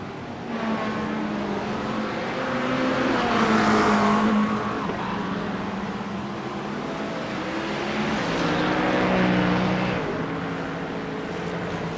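GT3 race cars, mostly Porsches with an Acura among them, circle Laguna Seca in a racing video game, engines droning steadily and swelling twice as cars pass close, with no talk over them.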